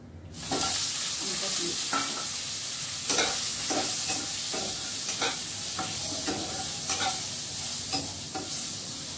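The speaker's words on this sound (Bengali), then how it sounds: "একটু 5 ফোড়নে দিচ্ছি, আর একটু হলুদ গুঁড়ো দিয়ে" Panch phoron and turmeric sizzle loudly in hot oil in a pan, a continuous close frying hiss broken by occasional scraping stirs and small pops.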